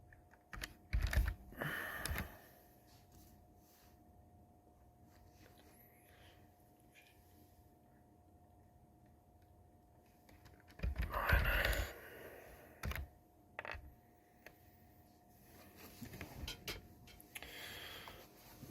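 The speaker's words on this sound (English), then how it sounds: "I'm going to type miner." Soft clicking keystrokes on a computer keyboard come in short bursts against a quiet room with a faint steady hum, typing a command for a mining rig setup.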